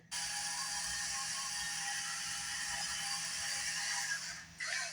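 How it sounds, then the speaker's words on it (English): A pepper mill filled with ordinary ground pepper rather than peppercorns is turned. It gives a steady, close, ratcheting grind for about five seconds with one short break near the end. "So I have that pepper mill"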